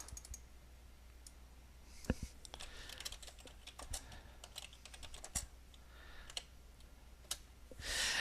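Quiet computer keyboard typing and mouse clicks, scattered taps at an irregular pace with short bursts of keystrokes, close and soft.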